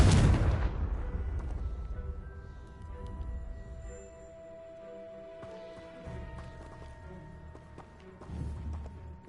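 Confringo fire-spell blasts in the video game Hogwarts Legacy open with a loud deep boom that rumbles into a long decaying tail, followed by smaller crackling impacts and a second swell of rumble.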